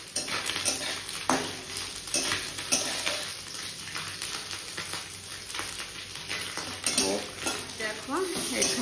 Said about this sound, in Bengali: মাছ ভাজা হচ্ছে, একদম ছোট ছোট মাছ।